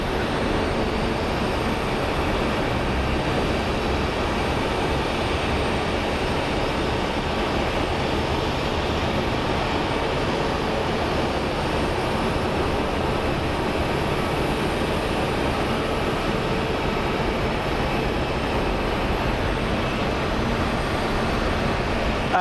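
Airplane at Phoenix Sky Harbor International Airport, its loud, steady roar filling the whole stretch without pause or talking.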